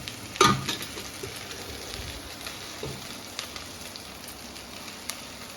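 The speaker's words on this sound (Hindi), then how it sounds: "अब मैं लगाऊंगी दाल में तड़का" Tadka of spices in hot oil or ghee, tempered for arhar dal in a home kitchen, sizzles and crackles steadily, opening with a sharp hiss and a few pops before settling into a soft, continuous fry.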